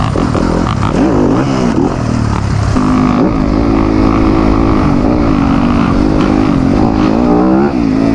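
A new 2025 Yamaha YZ250F dirt bike engine runs loud and close, its steady harmonic drone wavering with throttle changes and revving up and down throughout, with no talk over it.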